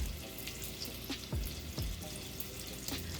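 Seasoned chicken browns in a pan with a constant frying sizzle and scattered pops and spits, heard up close.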